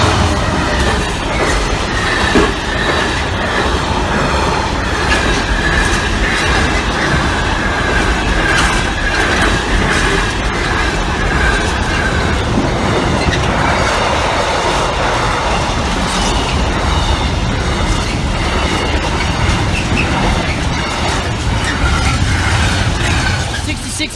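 A train runs past the Kesteven Sidings level crossing, its wagons clattering steadily with a continuous loud rumble and rhythmic clickety-clack, wheels squealing faintly at times, close by for the full duration.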